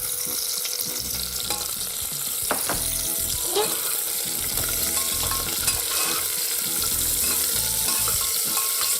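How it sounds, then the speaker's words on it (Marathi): Finely chopped onion sautéing in a pan with a few cloves, a continuous soft sizzle with occasional stirring scrapes and light clinks, close and unaccompanied by voices. "हे छान परतून घेऊया आणि त्याच्यामध्ये बारीक चिरलेला कांदा"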